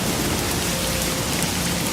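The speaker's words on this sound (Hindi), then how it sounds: "बारिश तेज हो गई" Heavy rain pours down in a dense, steady roar, loud and close throughout with no other sounds standing out.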